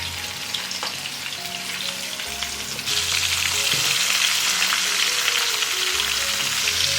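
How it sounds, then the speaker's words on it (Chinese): Shrimp coated in a thin layer of starch fry in a generous amount of oil in a pan over low heat, giving a steady, close crackling sizzle that grows louder and denser partway through. "把虾放进来煎。"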